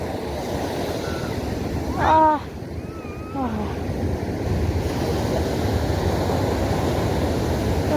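Ocean surf breaks steadily on a beach where fishermen haul in their catch, a continuous rushing wash with a brief voice calling out partway through.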